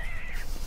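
A single raspy caw from a bird in the Don't Starve Together video game, short and fairly loud, heard alone.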